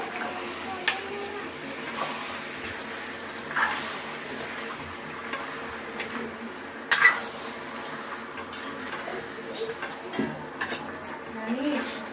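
Metal utensil scraping and clinking while stirring chicken curry in a pot, with a soft sizzle underneath and occasional louder knocks, close by and steady.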